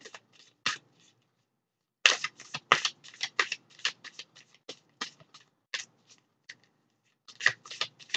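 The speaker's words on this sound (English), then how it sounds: "I did shuffling before I came on and I shuffled again on the camera" Tarot cards being shuffled by hand in quick, crisp bursts of riffling and sliding, close and fairly quiet, with a short pause between rounds.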